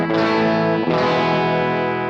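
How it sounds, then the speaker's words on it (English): An electric guitar through a pedalboard on its first gain setting rings out in a warm, solid overdriven chord, then a second strummed chord sustains loud and close. "It's just a nice, solid, warm gain signal."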